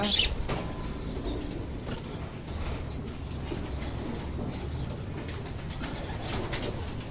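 Pet parakeets and lovebirds in a home aviary feed and call, with soft cooing and chattering, a few wing flutters and steady low background noise throughout.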